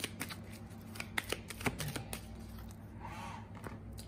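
Tarot cards are shuffled and handled up close, giving quick riffles, flicks and papery snaps at an uneven rhythm, soft and intimate, with a quieter rustle near the end.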